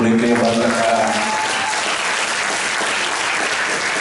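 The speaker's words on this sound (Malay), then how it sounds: "kita berikan tepukan kepada mereka yang baru datang." A hall audience claps for newcomers, dense, loud applause starting at full strength and continuing evenly, with a brief tonal voice or sound fading out early.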